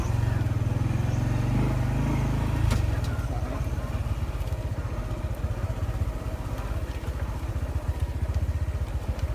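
A vehicle creeps in first gear along a muddy dirt track where sticky soil lies over sand, its engine a steady, close low rumble with light clattering throughout.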